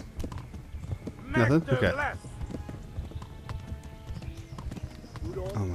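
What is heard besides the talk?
horse galloping in video game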